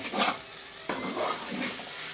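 Soya chunks and egg being stirred in a hot frying pan, a gentle sizzle under three or four soft sweeping scrapes of the spatula, close up, with no voices.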